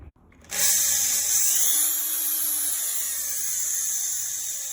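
A Makita 6303H electric drill, just back from a cord repair, whirs up abruptly after a short pause and keeps running at a steady high-pitched whine, close and alone.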